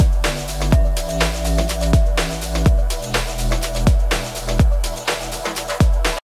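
Wobbly synth bass from a track pulses loudly in steady rhythmic hits, with deep low tones and a sharp attack on each beat, heard without any voices.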